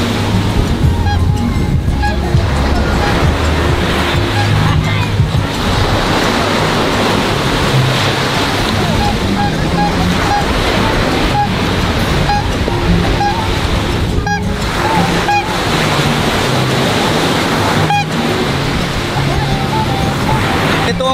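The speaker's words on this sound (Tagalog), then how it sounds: "Ito ang masarap magtampisaw mga sangkay, yung ganitong klaseng alon, no?" Ocean waves break on a shore in a constant, loud surf wash with wind buffeting the microphone, rolling surges rising and falling over the whole stretch, with no voices over it.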